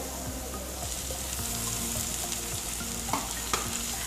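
Tomatoes fry in chicken kurma masala with a steady close sizzle, and a spoon stirs through it with a few soft scrapes and light clicks. No voices are present.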